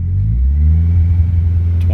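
A Nissan 240 engine being revved from idle while oil pressure is checked, a loud close mid-pitched engine drone rising steadily in pitch, with someone speaking over it.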